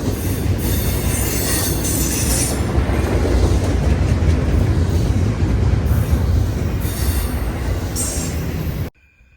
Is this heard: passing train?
yes